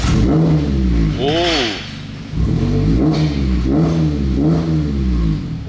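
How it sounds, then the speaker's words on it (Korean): A tuned Mazda MX-5 Miata four-cylinder engine with an aftermarket exhaust revs up and down repeatedly with a deep, throaty note, loud and close, the pitch sweeping up with each blip of the throttle. "자, 이제 배기 소리가 어떻게 바뀌었는지 한번 들어보시도록 하겠습니다."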